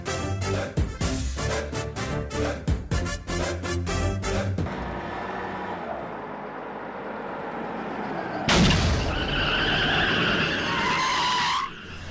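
A car's tire skids and screeches after a puncture, a loud sustained squeal that comes after a stretch of rhythmic, music-like bursts and then fades out at the end.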